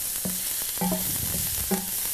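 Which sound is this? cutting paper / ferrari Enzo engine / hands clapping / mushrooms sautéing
mushrooms sautéing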